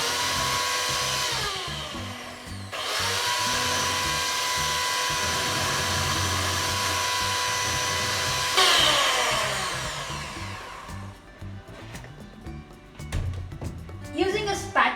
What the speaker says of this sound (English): add powdered sugar. I have taken around half cup of sugar. And beat this till the two incorporates nicely